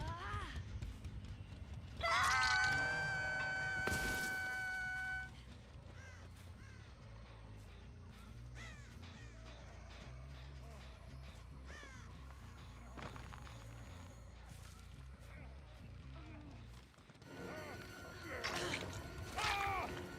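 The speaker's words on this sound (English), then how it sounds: "There's some flying birds." Crows in the Dead by Daylight video game caw loudly in a harsh burst early on, then more calls and flapping follow amid quiet game ambience and footstep-like thuds, with no one talking.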